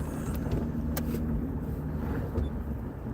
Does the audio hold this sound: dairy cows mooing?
no